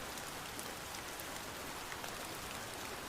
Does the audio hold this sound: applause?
no